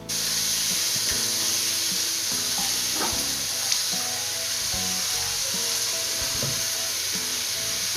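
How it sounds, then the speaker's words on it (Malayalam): Spiced clam meat frying in a hot pan for a Kerala-style clam roast, giving a constant loud sizzle and hiss with occasional stirring scrapes and pops, and no talking. "ഈ ചൂടായ പാത്രത്തിലേക്ക് നമ്മുടെ കക്ക ഇറച്ചി നല്ല ഇട്ട് കൊടുക്കുകയാണ്"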